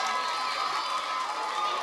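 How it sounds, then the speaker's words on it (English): High school assembly crowd cheering and shouting, a dense, continuous wash of many voices, loud and steady throughout, with individual claps barely distinct within the roar. "Judging from the applause."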